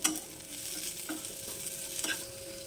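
Vegetables fry and get stirred in a pan, a steady close sizzle broken by a few louder scraping stirs, no voices.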